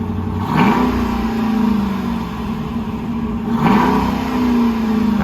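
A 2021 Dodge Durango with a Flowmaster Outlaw exhaust starts up twice, each start a sharp rising bark that settles into a steady, close idle rumble.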